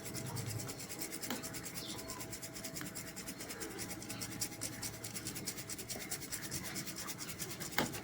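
Ground homemade turmeric powder is sifted through a sieve, giving a steady close-up rubbing and scratching rasp that continues unbroken for several seconds, with no talking.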